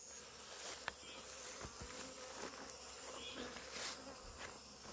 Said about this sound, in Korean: 벌이 자기 집을 버리고 나온다 그래서 도거라고 하는데요.